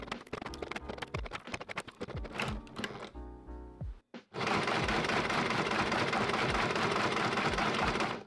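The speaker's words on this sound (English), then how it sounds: "I loaded up a few darts and turned the motor on." A motor-driven automatic dart loader with gears starts up with clattery mechanical ticking and knocks, breaks off, then runs as a loud, continuous grinding whir.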